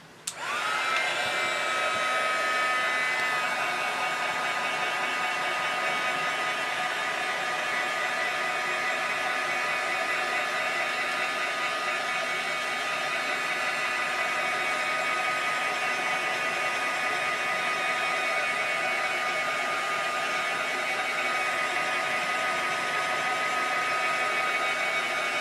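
A craft heat tool blows a steady, loud whirring hiss while drying ColorBloom ink mist on a paper tag, starting abruptly and running unbroken close to the microphone.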